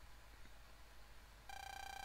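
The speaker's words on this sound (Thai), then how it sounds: "มีคนโทรมา" Telephone ringing in the video game MegaMan Battle Network 6: a quiet electronic tone that sets in suddenly partway through and holds steady over a low background hum.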